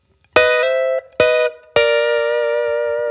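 Electric guitar lick played straight without bends, three plucked attacks stepping through notes, the last chord sustaining bright and clear to the end.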